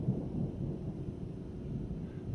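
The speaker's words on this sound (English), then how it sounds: "The thunder and lightning is everywhere" Thunder rumbling over the Grand Canyon during a storm, a steady low, heavy roll that stays loud and continuous throughout, with no voices over it.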